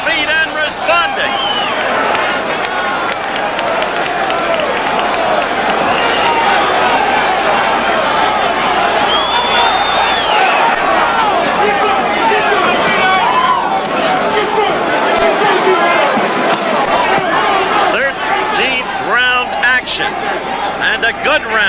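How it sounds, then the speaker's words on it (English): Boxing crowd roaring on its feet at ringside, a dense, continuous wall of cheering and shouting babble that stays loud and steady throughout without a break. "And the crowd is on its feet and responding."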